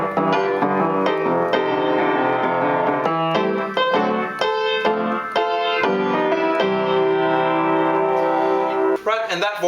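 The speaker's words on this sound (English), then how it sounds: "the last 4 bars of a 12-bar blues sound like this" Chord changes closing a 12-bar blues, moving through a minor two chord to the five and back to the one, with a repeated C on top of each voicing; sustained harmonic chords ring out in a steady sequence, played without talk.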